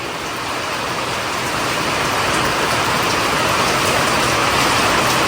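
Heavy rain pours steadily and loudly, a dense unbroken hiss that holds at the same level throughout with no voices.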